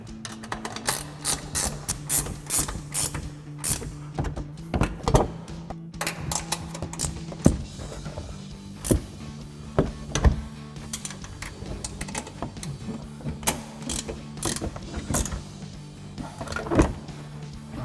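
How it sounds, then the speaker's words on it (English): A 15mm ratcheting wrench tightens suspension bolts on a 2019-2024 RAM 1500 during a lift kit install, giving repeated quick ratchet clicks in bursts with metallic ticks and clunks, close and moderately loud. "we can go ahead and tighten these 3 down using our 15mm ratcheting wrench"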